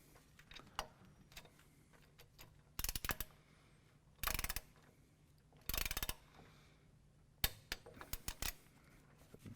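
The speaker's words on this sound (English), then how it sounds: "25 foot-pounds of torque to finish this thing off." A torque wrench ratchets a bolt on a Havoc Offroad 5-inch lift kit for a 2017 Chevrolet Silverado 2500 HD. Several short bursts of rapid clicking sound close and moderately loud, with quiet pauses between them.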